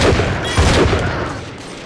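Automated turret gunfire in BioShock 2, two loud, close bursts of booming shots about half a second apart, with echoing decay after each.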